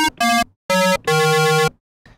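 A Korg MS-20 Mini synthesizer produces short, harsh metallic tones with ring modulation, three bursts of buzzy synthesized cymbal-like sound separated by brief silences, then a faint tail.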